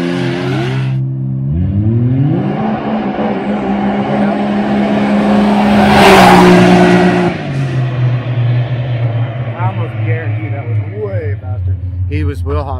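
A Mitsubishi Evo Stage 5 launches hard in a four-wheel-dig start, the engine climbing through rising revs and a gear change before settling. A voice talks over the engine throughout.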